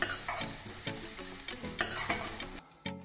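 Chopped onions with salt being stirred in a hot pan, soft scraping strokes of a spoon over a gentle sizzle, with a few louder stirring bursts before a short pause near the end.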